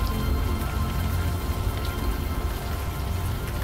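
Rain falls in the video game Unavowed, a dense, unbroken patter that stays level and fairly loud throughout, with no voices.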